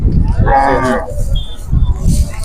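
Cow at a large cattle fair in Vijayapur, Karnataka, giving one loud, close moo lasting about half a second amid crowd chatter and background fair noise.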